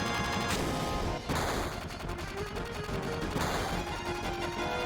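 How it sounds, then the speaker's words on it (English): Gunfire from an action scene in Final Fantasy 7, a dense, loud burst of shots and crashing impacts that runs nearly continuously with a brief dip, no talking over it. "Gunfire?"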